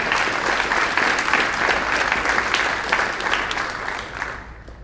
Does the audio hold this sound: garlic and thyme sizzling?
no